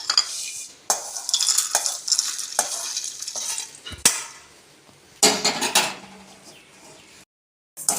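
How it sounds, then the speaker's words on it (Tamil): Almonds and cashews roast together in a pan, a near, dry scraping and rattling of nuts stirred in bursts with short pauses between strokes, a faint sizzle underneath and no talking. "பாதாம், முந்திரி இது எல்லாமே ஒன்றா போட்டே வறுத்துக்கிடுவோம்."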